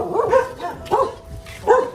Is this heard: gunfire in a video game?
no